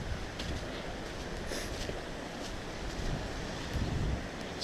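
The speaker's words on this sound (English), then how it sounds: "The babbling brook." A babbling brook flows along a snowy winter hiking path, a steady broadband wash of running water blended with light wind rumble throughout, no voices.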